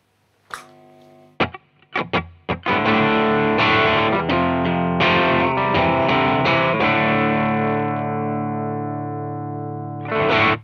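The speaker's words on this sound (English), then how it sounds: "which is essentially a JCM 900 amp cranked" Electric guitar played through a cranked Marshall JCM 900 amp, a distorted tone with effects, a few sharp picked hits, then sustained ringing chords that slowly decay, and a final strum at the end.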